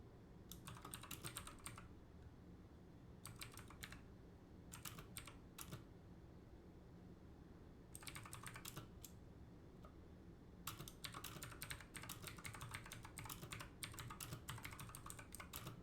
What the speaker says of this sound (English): Sorry about the clickies of the keyboard.